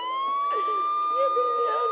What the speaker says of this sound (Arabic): سيارة الاسعاف سيارة الاسعاف راحت